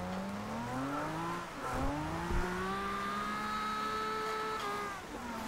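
A 1969 Nissan Fairlady Z in the racing game Forza Horizon 2 slides through a rainy drift, its engine note rising and dipping as it revs, shifts and holds sustained high revs, alone with no talk.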